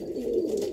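A pigeon coos once, close and soft, a low throaty rolling call at a grain and water feeder.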